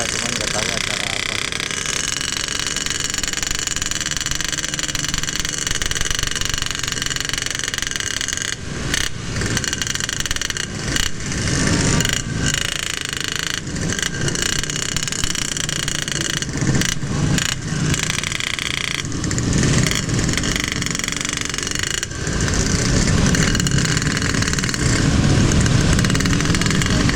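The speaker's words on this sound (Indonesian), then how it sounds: "Udah ramai banget ini, macet." Motorcycles and cars sit in a crowded traffic jam by the Majalengka town square on New Year's Eve, engines idling and revving in a steady close roar, with a rider talking over the traffic.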